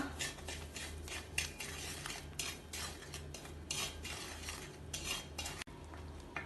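A mango and sugar mixture for mango sandesh is stirred and cooked down in a pan: a close run of rhythmic spoon scrapes against the metal over a soft sizzle, with no voices.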